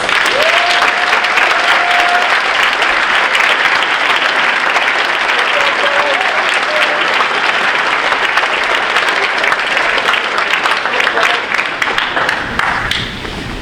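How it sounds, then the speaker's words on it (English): Loud, sustained applause from a big audience at an 8th grade step-up night fills the room, a thick wash of clapping that holds steady and thins slightly as it winds down. "give them one more round of applause for the mentors"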